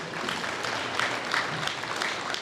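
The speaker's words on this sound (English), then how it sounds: "So can everybody give her a round of applause, because she was awesome." An audience at a football all-star bowl draft event applauds, a brief steady wash of clapping from a crowd that holds evenly and fairly softly throughout.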